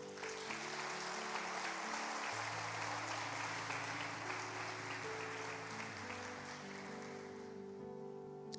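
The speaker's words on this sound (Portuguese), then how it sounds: "Dê um aplauso para o casal" An audience applauds a couple at a church gathering, a steady wash of clapping throughout, set under sustained music with held tones.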